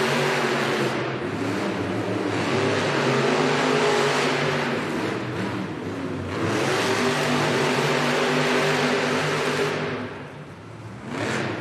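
Monster truck engines at a Monster Jam arena event in Allentown, including El Toro Loco, roar and rev loudly and continuously with crowd noise, surging in waves and dipping briefly near the end.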